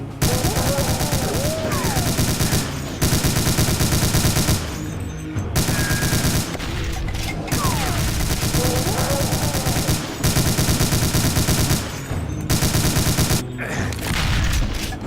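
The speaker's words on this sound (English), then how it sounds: "What the hell is shooting me?" Dense, continuous gunfire in Doom, rapid repeated shots with brief gaps, loud and close, layered with game effects.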